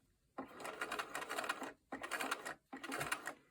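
A home sewing machine stitching a fabric star in three bursts, each a rapid steady whir of the needle, separated by brief pauses, close and clear.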